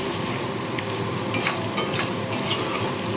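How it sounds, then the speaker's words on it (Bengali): A spoon stirs hilsa fish head curry with potatoes, sugar and roasted cumin powder in a pan, a steady low sizzle carrying a few soft scraping strokes against the metal. "একটু নাড়াচাড়া করে নিই"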